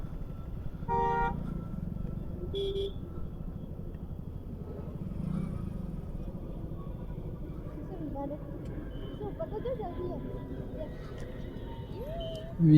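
Heavy road traffic on a service road near Ahmedabad close to the airport: a steady rumble of engines, with a couple of short vehicle horn toots early on and voices faintly in the background.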